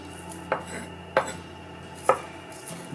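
Half a small onion being chopped on a board with a knife, four distinct sharp thunks spaced roughly half a second to a second apart, close and clear over a quiet kitchen background.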